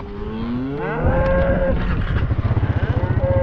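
Cattle on a farm low in a long, drawn-out moo, joined by a second rising call, with a pulsing rumble near the end.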